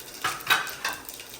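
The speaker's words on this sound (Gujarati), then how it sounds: "તેલ ગરમ થઈ ગયું છે એટલે રહી નાખી" Mustard seeds dropped into hot oil to temper khichdi in a home kitchen, giving a few quick crackling pops and light clinks over a faint sizzle, close and soft.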